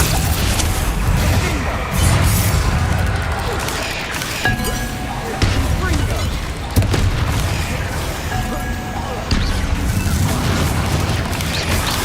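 Bombarda blasting spell from Hogwarts Legacy erupts in repeated booming explosions with crashing, glassy clinks and debris, loud and close, with speech-like sounds under the bursts.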